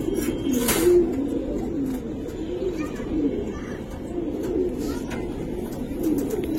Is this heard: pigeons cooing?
yes